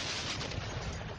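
A cannon fires in played footage, one loud booming blast with rumbling, crackling decay filling the short moment, heard at a distance through playback.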